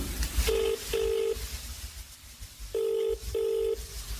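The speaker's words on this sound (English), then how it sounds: "he calls Margaret again, as he still can't find the house" Four short electronic telephone keypad tones, two quick beeps, a pause, then two more, over faint background noise.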